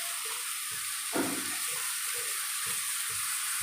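Fish fries in a home kitchen pan with a steady, hissy sizzle that fills the whole stretch, plus a brief thud or stir near the middle and faint knocks beneath, with no one speaking.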